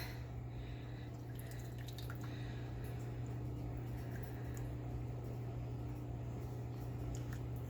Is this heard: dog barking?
no